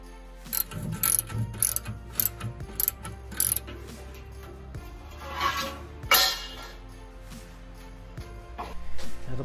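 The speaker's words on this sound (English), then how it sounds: "I'm gonna take this old cement mixer and see if I can make a sand mulling machine to do it for me" An old Harbor Freight 3.5 cubic foot cement mixer, converted into a sand mulling machine, runs with a steady low drone and repeated ratcheting, clanking mechanical strikes, loud and close with no talk.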